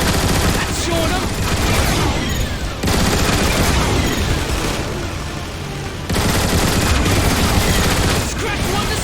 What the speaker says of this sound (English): Autobots, man the turrets.